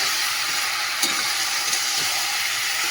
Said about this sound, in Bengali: একটু জিরের গুঁড়ো দিয়ে মশলাটা ভালো করে কষাবো